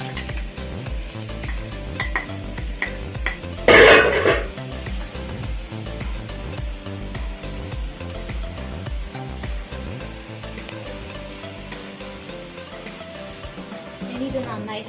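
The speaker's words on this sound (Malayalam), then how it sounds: "ഇനി ഇതിലേക്ക് നേരത്തെ അരിഞ്ഞു വെച്ച പപ്പായ ചേർക്കുകയാണ്." Chopped papaya stirred and frying in a pan for a Kerala-style thoran, with a steady sizzle and scraping stir strokes throughout, plus a brief louder clatter of utensil on pan near the start.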